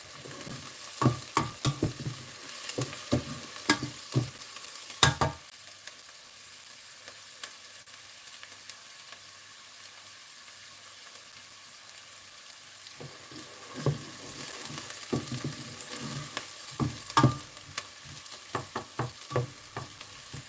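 Onions sauté in a pan as a soup is prepared, with a steady soft sizzle underneath and repeated scraping strokes of a spoon stirring, which pause for several seconds midway before resuming.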